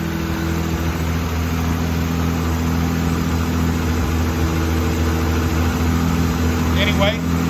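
A 1967 Austin Healey 3000 MkIII engine idles steadily after a cold start, a loud, constant low rumble with even harmonic drone throughout and a brief voice near the end.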